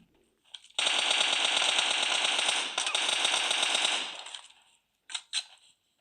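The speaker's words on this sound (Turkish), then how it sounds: "Arkadan sıkıyor." Automatic gunfire in the PUBG Mobile video game: one long, loud sustained burst of about three seconds with a brief hitch midway, fading out, then two short sharp shots after a pause.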